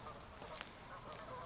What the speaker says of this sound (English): Mute swans.